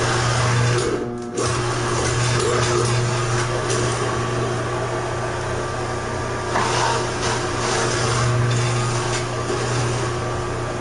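A Champion juicer grinds carrots and ginger with a loud, steady motor whine, briefly dipping once as produce is fed in, then droning on close and constant.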